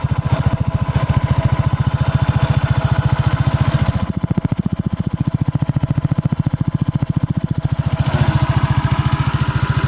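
An ADV Euro Falcon motorcycle engine runs steadily at a low idle, its rapid even pulsing loud and close, with a slight dip in intensity midway before it recovers; no one speaks.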